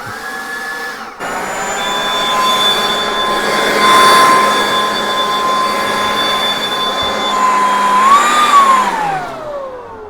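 Husqvarna 120iBV battery leaf blower used as a garden vacuum, running steadily with a high whine and airy rush for about eight seconds, then winding down at the end, with no talk.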